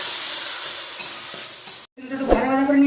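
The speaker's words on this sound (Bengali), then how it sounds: "তেঁতুলগুলো একটু ভাজা ভাজা করে নেব" Tamarind with salt and turmeric sizzles and fries in a pan, with a scraping stir partway through and a louder sizzle after a brief pause.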